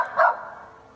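A single short bark from a dog in the woods, clear and moderately close, fading into quiet outdoor background.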